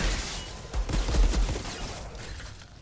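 Rapid bursts of gunfire from the shooter video game Outriders, a busy cluster of shots peaking mid-clip over a dense, noisy game mix, then thinning out toward the end.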